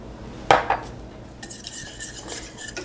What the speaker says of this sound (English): I got out my little whisk and I'm whisking everything together